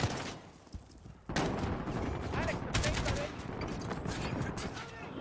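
Call of Duty Modern Warfare gunfire, mostly rapid automatic bursts that start abruptly after a quiet second, loud and close, continuing as dense firing with sharp individual shots layered over it.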